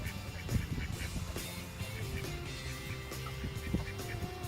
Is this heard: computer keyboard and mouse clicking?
no